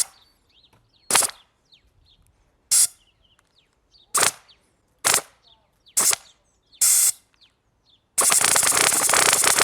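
Full-auto Orbeez gel ball gun firing, six short sharp bursts spaced about a second apart, then a long continuous loud stream of rapid shots at the end.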